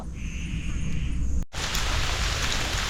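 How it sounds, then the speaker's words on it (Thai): Steady rain hisses down in a forest, a dense, loud wash that cuts out for a moment before resuming just as heavily. "ฝนก็จะตกละ"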